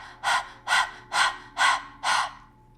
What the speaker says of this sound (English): You can do that by sticking your tongue out and panting like a dog.